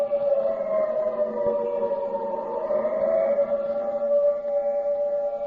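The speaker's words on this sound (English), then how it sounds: "The siren is a musician of no value, knowing only one tune" A World War II air raid siren wails steadily in a radio broadcast, one sustained tone that swells and dips slightly, loud and alone without speech.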